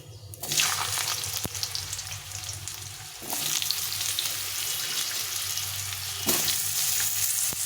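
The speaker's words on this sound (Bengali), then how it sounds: "এখন আমি আলুগুলো ভেজে নেব প্রথমে" Potatoes fry in hot oil, with a loud continuous sizzle close by that swells as more pieces go in, plus a few stirring knocks.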